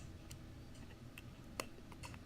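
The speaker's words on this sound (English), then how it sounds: "You can hear that noise clicking." An iPhone 7 Plus screen connector being pressed into place during a screen repair gives a few small, sharp clicks. They are faint and close, the loudest near the end, over a low hum in a quiet room.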